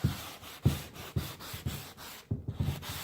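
Rhythmic back-and-forth rubbing of a damp sanding block wet sanding waxed painted furniture, about a dozen steady strokes, close and moderately loud, with a brief pause near the end.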